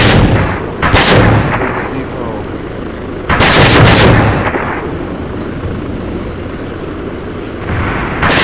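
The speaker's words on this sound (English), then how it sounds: "Another successful bombing run by AOT Prima." Air support bombing run in a video game: loud, booming explosions land in two heavy bursts with a shorter blast between them, followed by rumbling aftermath and a fainter final boom.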